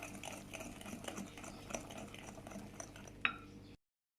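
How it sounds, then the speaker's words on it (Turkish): Electric mixer whisking banana cake batter in a kitchen, a quiet steady whirring drone with a faint wet churning texture and one small clink near the end before it cuts off. "Ve çırpma işlemine devam ediyoruz."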